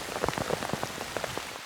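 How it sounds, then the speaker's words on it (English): Outdoor rain falling steadily on a surface, a dense patter of close, irregular drops tapping throughout with no voices. "the weather is pretty miserable. It starts to rain more and more."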